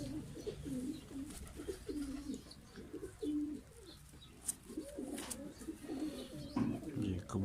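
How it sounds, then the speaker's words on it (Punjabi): A breeder female pigeon coos in repeated low, rolling phrases close by, with faint chirps and rustles in the background. "ਬਰੀਡਰ ਕਬੂਤਰੀ ਹੈ ਜਨਾਬ"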